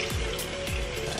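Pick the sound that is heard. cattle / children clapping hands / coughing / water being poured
water being poured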